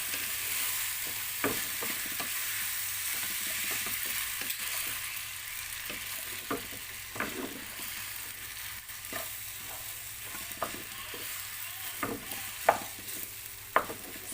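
Pancit bihon vermicelli noodles with vegetables are tossed and stirred in a pan, a soft sizzle running underneath while scattered clicks and scrapes of the utensil pop out here and there.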